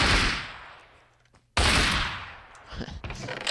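AUG rifle fired in Minecraft with Flan's Mod, two sharp bursts of gunfire, each decaying quickly, followed by a few softer mechanical clicks.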